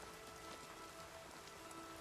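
Rain in the video game Oblivion Remastered, a faint steady patter of drops falling on surfaces, continuous and quiet with no voices.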